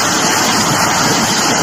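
A waterfall roars in a steady, loud, broadband rush of falling water, heard close and unbroken with no voices over it.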